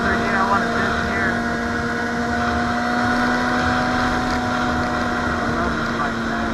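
A 2006 Honda CBR600RR motorcycle engine running while riding, a steady loud drone with a constant tone under wind rush, and someone talking over it throughout.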